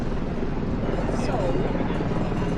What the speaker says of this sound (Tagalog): May helicopter ka pa doon.